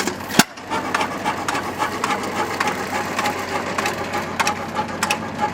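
A rare hot tube ignition hit-and-miss engine runs steadily up close, with a busy mechanical clatter of repeated clicking, ticking strikes and one sharp louder knock near the start.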